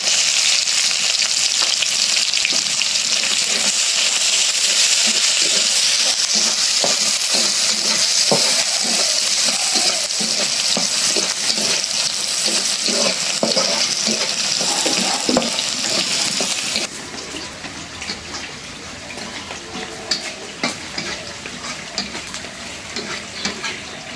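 Chilies fry in a pan with onion and garlic, a loud continuous sizzle with stirring scrapes that drops noticeably quieter and softer near the end.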